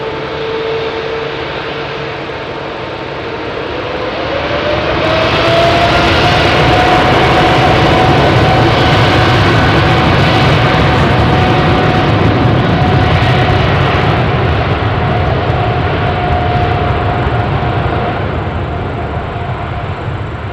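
A Boeing 737 MAX jet throttles up for its takeoff roll on Heathrow's runway 27R, heard up close as a loud, steady engine roar that swells after a few seconds and holds, with a rising whine riding the broadband rush.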